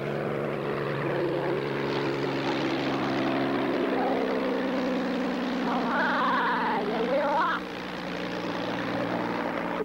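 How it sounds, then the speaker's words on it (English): A propeller airplane drones steadily overhead, its engine hum loud and continuous with a wavering pitch as it passes, then easing slightly toward the end. "I can hear the airplane, but I can't see it."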